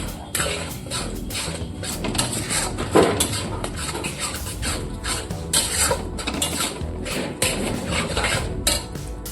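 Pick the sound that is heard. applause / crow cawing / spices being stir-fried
spices being stir-fried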